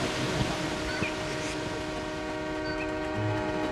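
A Pingxi Line train rumbles steadily along the track in the hills near a former gold-mining village, with a sustained hum and faint clatter and no voices.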